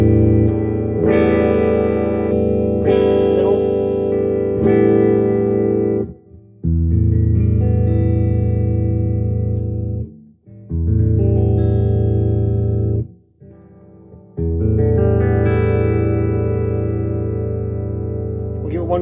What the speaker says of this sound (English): One good strum and see how long it lasts.